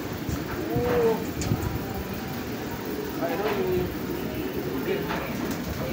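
Pigeons arriving at a loft give soft, low cooing calls, about three short coos spread a couple of seconds apart, heard under people talking nearby against steady background noise.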